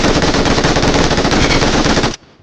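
Automatic gunfire in the mobile game PUBG Mobile: one loud, dense, rapid burst lasts about two seconds and then cuts off abruptly into near silence.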